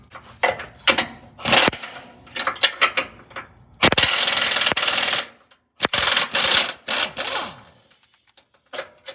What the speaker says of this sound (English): I'm gonna be using a 21mm socket to hold the bolt, and I'm gonna be using a 27mm socket to remove the nut